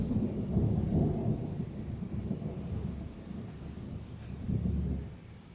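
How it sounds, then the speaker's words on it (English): Low rolling thunder rumbles through a steady wash of rain, loud at first, easing off, then swelling again near the end, with no talking. "Can you guys hear the thunder?"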